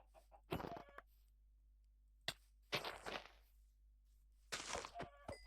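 Short clucking bursts from a chicken in Minecraft, three clusters separated by quiet gaps, with a sharp thunk in between.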